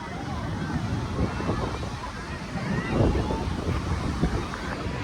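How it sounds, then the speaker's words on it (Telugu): Ocean surf rolls in at Puri beach in Odisha, a broad wash of breaking waves mixed with wind buffeting the microphone, with a person talking over it. "మొత్తానికి మనం పూరి బీచ్కి అయితే వచ్చేసాం"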